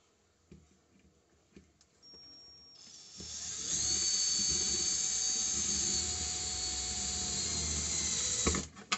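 A battery-powered drill driving a screw, with quiet handling clicks and rustling at first, then a loud steady whirring drone of the motor that runs for several seconds before stopping abruptly.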